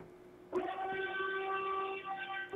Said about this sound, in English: What was that siren in the background?